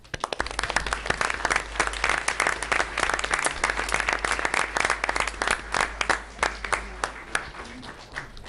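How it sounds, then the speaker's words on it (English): Sustained applause from a school board meeting audience honoring art students recognized during National Youth Art Month, dense overlapping claps continuing steadily for over eight seconds, loud and near, thinning slightly toward the end. "Please join me in honoring them with a round of applause"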